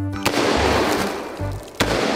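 Two sharp shots from a toy cowboy pistol, one early and one later, each a short crisp crack over steady background noise.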